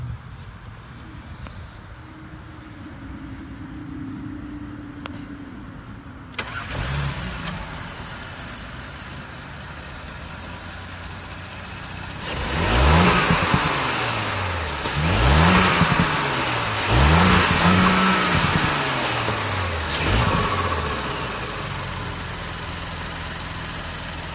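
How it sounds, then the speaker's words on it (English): A 2018 Audi S5 turbocharged engine cranks to life after a quiet stretch, settles to a steady idle, then gives several rising and falling revs with turbo whoosh, heard from near the front of the car. "we're gonna fire it up and like you can hear the turbo from the front."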